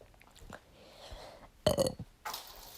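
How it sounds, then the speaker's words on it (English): A single short burp right after drinking water, moderately loud and close, standing alone against a quiet room with faint rustling before it. "And I'm sorry for burping"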